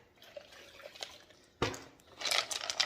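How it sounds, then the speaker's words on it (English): Water poured out of a 12 lb rock tumbler barrel holding jasper stones, quiet drips followed by a sudden splash and a short gurgling pour, close and fairly faint. "Might dump a little water out."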